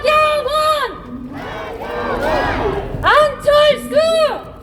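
Crowd at a Seoul mayoral campaign rally outside Yeongdeungpo Station chanting names in loud rhythmic unison, with bursts of shouting and cheering, close and strong throughout.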